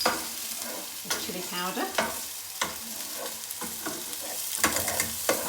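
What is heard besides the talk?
onion frying in a pan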